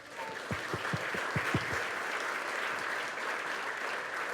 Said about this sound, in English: I'd just like to give them a round of applause